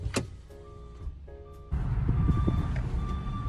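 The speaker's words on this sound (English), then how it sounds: "put one of the alarm things that go off whenever a big truck is backing up, and he attached it to my brakes" A truck-style reversing alarm wired to a car's brakes beeps in a steady tonal pattern inside the vehicle, with louder road and engine noise coming in partway through.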